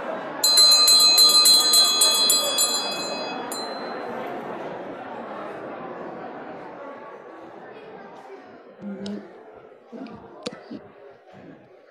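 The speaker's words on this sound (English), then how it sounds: "I'm going to have to use the bell." A hand bell rings loudly in a hall before a gathered congregation, one bright metallic peal that decays slowly over several seconds while faint murmuring and clicks continue.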